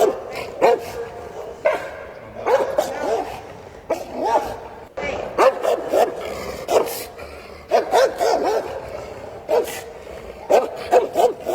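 A dog barks and yips in short repeated bursts, fairly close, with whimpering between them as a person talks over the barking.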